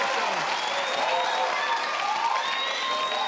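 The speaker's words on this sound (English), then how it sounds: "They're clapping again." A studio audience at a Family Feud South Africa game show claps and cheers continuously while contestants talk over the noise.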